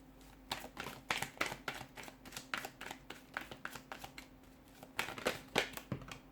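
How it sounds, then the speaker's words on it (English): Rapid riffling and flicking of a deck of cards being shuffled, close and crisp, in a steady flurry with a louder burst near the end. "give the cards a shuffle"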